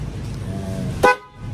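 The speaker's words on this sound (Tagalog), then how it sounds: "Tingnan yung busina para sa tricycle ni daddy." The horn of a brand-new tricycle gives one short, sharp toot over a low running engine, followed by a quieter moment.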